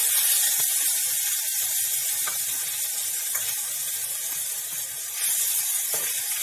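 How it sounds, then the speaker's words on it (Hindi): Onion with ginger-garlic paste frying in hot oil in a pan, a steady close sizzle and hiss that continues without a break, with faint clinks over it. "तो अब सबसे पहले हम इसमें प्याज और अदरक लहसुन भून लेंगे।"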